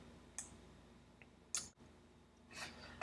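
A computer mouse gives a few faint, brief clicks while saving a file, isolated ticks in a quiet room.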